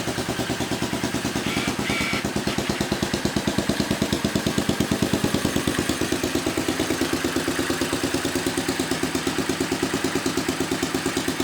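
Restored Honda farm bike engine idling with a makeshift exhaust, a steady rapid low chugging pulse that runs evenly and close up, with no talk over it.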